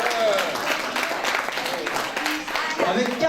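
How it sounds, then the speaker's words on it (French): An audience at a seniors' dinner applauds a performer with a steady, dense patter of clapping that lasts throughout, while someone talks over it. "On peut l'applaudir, hein, s'il vous plaît."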